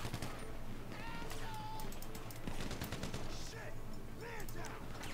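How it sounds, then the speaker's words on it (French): Gunfire from the video game GTA 5 (GTA Online), rapid shots and bursts crackling over game noise and chatter, with voices talking throughout. "j'ai vidé mon flingue"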